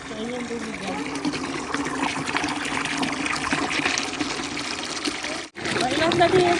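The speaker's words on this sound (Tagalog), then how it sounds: "Hihigupin yung tubig mula sa balon, tapos lalabas dyan sa hose na yan." Well water pumped by a motor gushes steadily out of a hose in a continuous close pour, with people talking over it.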